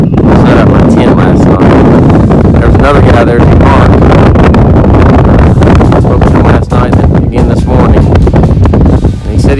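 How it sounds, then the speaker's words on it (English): Strong, steady wind roars and buffets the microphone on Round Bald, a grassy mountain bald along the Appalachian Trail. The gusting rumble stays loud and continuous throughout, with only brief dips. "It's still windy up here, as you can probably hear it."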